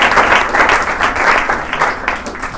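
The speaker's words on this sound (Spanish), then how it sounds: "quiero darle un aplauso de todos nosotros a Mauricio." An audience at a university talk on freedom of expression applauds, sustained loud clapping from a full room carrying through the whole moment without speech.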